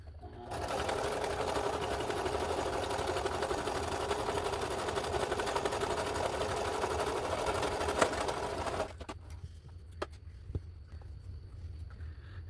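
A sewing machine runs a zigzag stitch in a steady, fast, rhythmic whir for about eight seconds, then stops abruptly, leaving a few isolated clicks and quiet handling noises.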